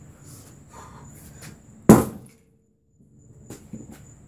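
A single loud, sharp crack of a regular hammer smashing a phone, close and abrupt with a short decay into near silence, framed by low indistinct background noise.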